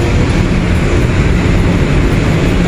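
Loud, steady rumble of an LRT light rail train in motion near 5th Avenue station, a continuous rolling roar with faint rattling, no voices.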